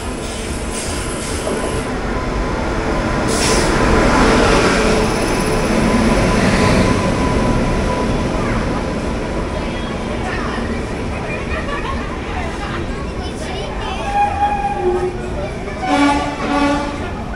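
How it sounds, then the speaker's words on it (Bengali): The Yoga Express pulls into platform 1 at Ranchi station with a loud, sustained rumble of wheels on rails. Squeals and tonal horn-like notes rise near the end, over a busy platform backdrop. "যোগা এক্সপ্রেস ঢুকছে রাঁচি স্টেশনের এক নম্বর প্ল্যাটফর্মে"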